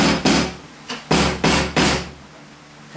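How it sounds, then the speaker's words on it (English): A hammer drives a nail into wood while a recessed hookah table is being built, five sharp, close strikes in an uneven rhythm, each followed by a brief ring, with no talking. "Hammer that in."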